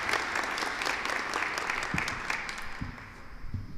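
An audience at a fall 2025 paramedic recruit graduation ceremony applauds warmly to welcome a speaker, a steady wash of many clapping hands with a few louder individual claps near the end.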